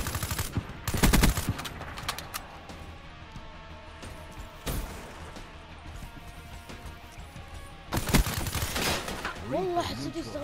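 Bursts of automatic gunfire from Call of Duty: Black Ops III crack out in loud volleys near the start, middle and end, with quieter game sounds and a voice between them.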